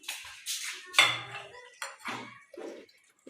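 Ingredients for dahi bhalla, fried pakoras with green chillies, being mixed in a bowl, with several close, bright clinks and scrapes of a spoon against the dish in an uneven rhythm.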